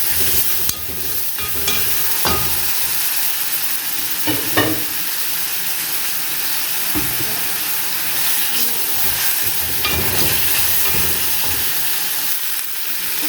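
Ingredients for Egyptian koshari sauté in a hot pan, giving a continuous loud sizzle and hiss with occasional stirring scrapes throughout, and no talking.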